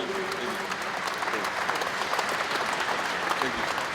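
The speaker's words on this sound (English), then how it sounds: "Please, ladies and gentlemen, a big round of applause" A steady wash of applause from a crowd, loud and continuous with no break from start to finish.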